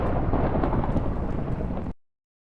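Heavy thunderstorm in Minecraft, a dense, loud, steady roar of rain and rumbling thunder filling the whole stretch before cutting off abruptly near the end.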